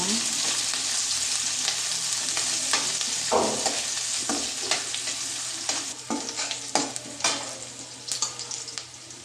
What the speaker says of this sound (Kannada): ಈಗ ಒಂದು ನೀರುಳ್ಳಿ ಹಾಕ್ತೀನಿ ಇದನ್ನು ಚೆನ್ನಾಗಿ ಫ್ರೈ ಮಾಡುವ